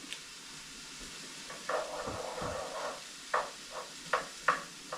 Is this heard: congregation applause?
no